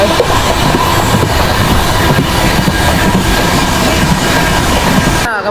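A passenger train runs at about 123 km/h on a long-distance journey through India, loud continuous rumble and rattle of wheels on track heard from inside a coach, steady throughout with no pauses.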